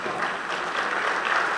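Audience applause at a mushaira, an Urdu poetry gathering in Ambedkar Nagar, as a steady, dense wash of clapping that stays loud and even throughout.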